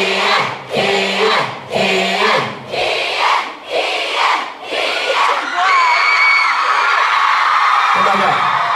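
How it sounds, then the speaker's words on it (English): A crowd at a live stage event shouts and whoops in five rhythmic bursts, loud and close, then settles into a sustained roar of cheering with scattered yells and voices mixed in. "Everyone cheer for Keenan."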